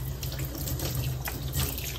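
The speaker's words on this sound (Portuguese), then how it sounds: "agora eu vou lavar." A Pandora bracelet is rinsed under a running kitchen tap to wash off toothpaste, giving a steady close splash of water with small shifts as the bracelet moves through the stream.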